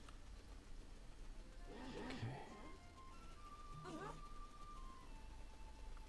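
A horse in the Black Desert Online video game gives two brief whinnies a couple of seconds apart, faint over a low background, with a voice talking nearby.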